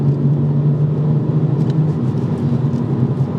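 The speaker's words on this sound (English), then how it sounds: "5th gear, I'm going to do a hard pull, because that will spool up the turbo." A BMW M140i with a B58 turbo engine and an intake upgrade makes a hard pull in fifth gear, producing a steady, loud, low engine drone that holds evenly throughout.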